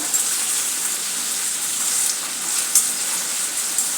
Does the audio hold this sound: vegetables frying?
yes